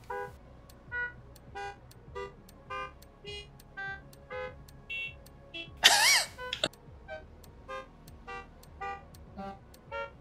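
A standard car horn in the Forza Horizon 3 racing game honks in one loud, sustained blast mid-clip, set among quieter, regularly spaced electronic tones.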